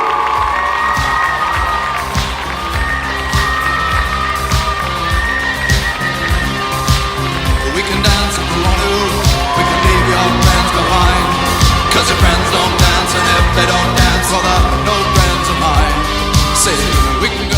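A large arena crowd cheers, whoops and shouts continuously at a robotics competition as safety advisors are welcomed, loud and sustained with a steady roar and music-like tones underneath.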